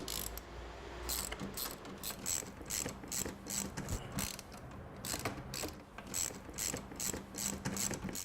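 A hand ratchet clicks in quick, steady runs as bolts are loosened at the corners of a Vectrix electric scooter's battery charger, its close, crisp pawl ticks repeating throughout.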